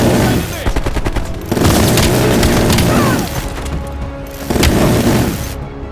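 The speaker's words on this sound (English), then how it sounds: "Sal, the bombers will be here any minute." Heavy bomb strike explosions and gunfire boom in a Call of Duty Black Ops Cold War battle, dense rumbling blasts and crackling impacts rolling continuously with a few stronger surges, loud and close.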